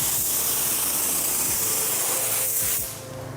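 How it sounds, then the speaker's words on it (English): Steady, loud high-pressure hiss of a spray gun misting paint in a garage, continuous for a few seconds before easing slightly at the end, with a faint low hum underneath. "The reason I'm spraying at high pressure is because I don't want texture."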